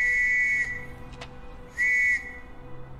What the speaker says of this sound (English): Why does that whistle freak him out?